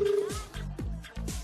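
Telephone dialing on a variety show: a short steady tone gives way to a rapid run of dial tones, followed by a few brief clicks and blips.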